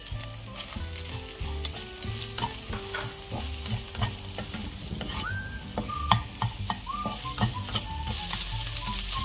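Egg and cooked rice fry in a pan with steady sizzling while a utensil stirs and scrapes in repeated knocks and clinks, close and fairly loud, with no talking.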